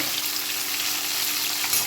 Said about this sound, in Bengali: এখানে এই যে মাছের মাথা ভাজা হচ্ছে